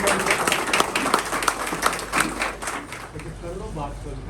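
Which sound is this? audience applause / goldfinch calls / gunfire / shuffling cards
audience applause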